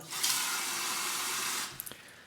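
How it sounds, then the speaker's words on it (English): Hot water pours from a tap into a shaving scuttle cup, a steady close splashing rush for about a second and a half, then stops with a few small drips and clinks. "I'm going to fill up my skull cup with some hot water."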